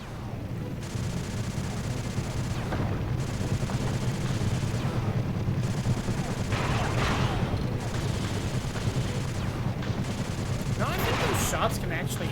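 Rapid enemy gunfire in the video game Sly 2, a dense, continuous crackle of shots under steady game background noise that runs through the whole stretch, with bursts and no clear pauses.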